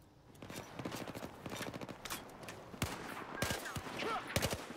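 Rapid bursts of automatic gunfire from Battlefield 4 combat, with close rhythmic shots in strings followed by a few louder separate cracks, all fairly faint.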